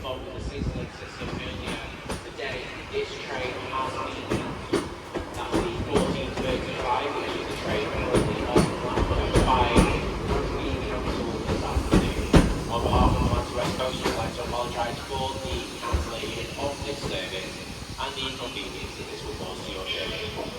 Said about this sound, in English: And the train now arriving into platform